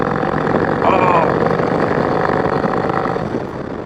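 Turbocharged 131ci Harley Street Glide Special riding on the road, a loud continuous engine drone with wind and a faint turbo whistle, with someone talking over it.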